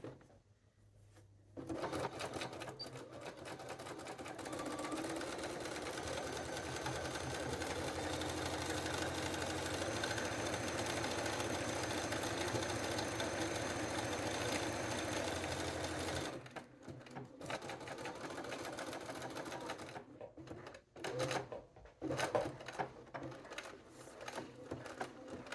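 A sewing machine runs a trouser seam with a 5/8 inch seam allowance, whirring steadily and close for about fifteen seconds, then falling into short stop-start bursts with quiet gaps between.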